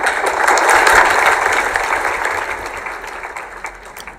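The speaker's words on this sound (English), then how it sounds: "That's clapping off the stage, Saucy, and clapping on the stage, Slim." Audience clapping off the stage during a live quilting chat show, a dense patter of hands that swells in the first second and then slowly tapers, heard on its own without talk.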